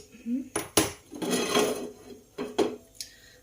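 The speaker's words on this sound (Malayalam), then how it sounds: "ഇതിപ്പോൾ ഒരു പഴയ നോൺ സ്റ്റിക്ക് തവയാണ്, അത് നമുക്ക് തൽക്കാലത്തേക്ക് വെക്കാം" An old non-stick tawa clanks metallically onto a stove, several sharp knocks and scrapes of cookware close by, with a short rattle near the end.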